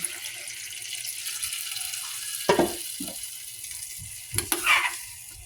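Water poured into a pan of chicken adobo as it cooks, a soft sizzle and stir running throughout with two brief, louder splashing bursts near the middle and end.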